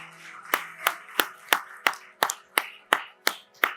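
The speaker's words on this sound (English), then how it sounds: "Can we please keep the applause going?" About ten sharp, evenly spaced claps ring out close by at a tech conference fireside chat session, each crisp smack separate and distinct over a faint tonal hum, with no voices.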